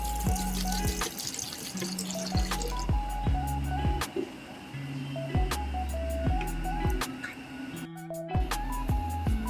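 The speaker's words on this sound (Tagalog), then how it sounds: "Ibuhos lang sa ating pitsil." Gin from a 350 ml bottle is poured steadily into a pitcher with a continuous liquid rush and trickle, with scattered drips and clinks and background music over it.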